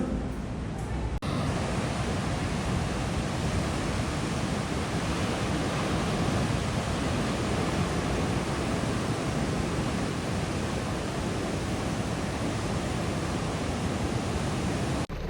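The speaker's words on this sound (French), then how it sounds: "Ouais, la pluie est revenue." Steady rain pours down outdoors in Australia, a constant dense hiss holding at one level throughout with no talk over it.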